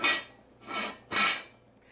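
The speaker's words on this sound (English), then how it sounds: "Now I'm going to cover it with my lid." A metal lid set onto a pot of braising chuck roast in beef broth, giving three short clanking scrapes close by, each fading quickly, with no talking.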